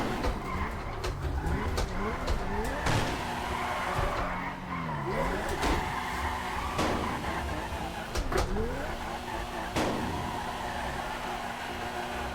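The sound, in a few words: car drifting with tire squeal in GTA V FiveM, video game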